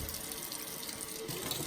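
Tap water runs steadily while a jasper honing stone for a straight razor is rinsed. The rush is constant and broadband, close by, with no voices.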